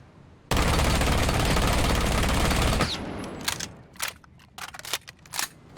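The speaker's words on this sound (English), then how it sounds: "quite an insane recoil, to be honest, from Ela Scorpion if you emptied all 41 bullets in the magazine" Ela's Scorpion machine pistol in Rainbow Six Siege emptying a full 41-round magazine in one continuous rapid burst of gunfire lasting over two seconds, followed by a few sharp, quieter clicks and taps.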